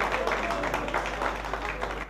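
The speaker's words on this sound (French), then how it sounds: "Applaudissements s'il vous plaît." Steady applause from the audience at an award ceremony for the 2016 Diaspora prizes, fairly soft and even, with a low hum running underneath.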